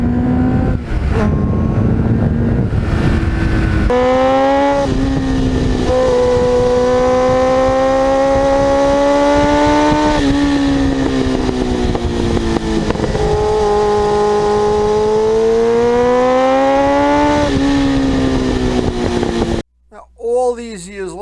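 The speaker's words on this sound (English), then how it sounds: "I love the sound of that Muzzy muffler." A 1989 Kawasaki GPX750R inline-four track bike with a Muzzy muffler, loud and close, revving and pulling through rising and falling gears for about twenty seconds before cutting off abruptly.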